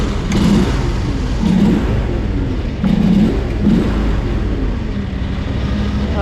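Diesel engine of a Fland FL45 wheel loader runs through a speed test, a steady loud rumble with recurring bursts of revving as it pulls along, close and continuous with no talk.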